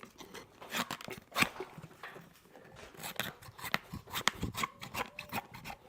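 Excess horseshoe pad material is trimmed away during a shoe fitting, producing close, irregular cutting, crunching and rasping scrapes in short bursts with brief pauses and no talking.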